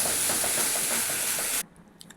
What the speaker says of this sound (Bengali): ভাজতে শুরু করলাম।